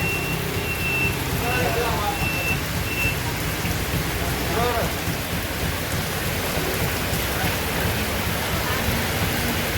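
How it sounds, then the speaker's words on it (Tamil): Heavy rain pours steadily in Jaffna, a dense continuous hiss of drops on surfaces with low rumbling underneath, while a person briefly exclaims close by. "அடே மழை தான்"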